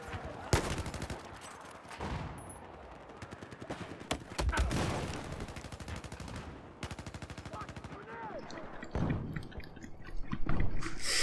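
Battlefield 4 gunfire comes in repeated rapid automatic bursts and single cracks, loud and close, mixed with brief spoken voices between the volleys.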